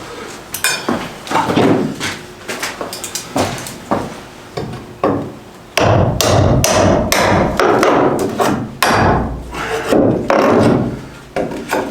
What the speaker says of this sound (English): Pull the nails out from the top.